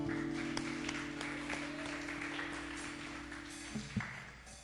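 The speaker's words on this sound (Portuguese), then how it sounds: "Dá uma salva de palmas pro Senhor." Faint congregation applause in a church service, scattered clapping beneath a sustained organ or keyboard tone, fading out after a few seconds.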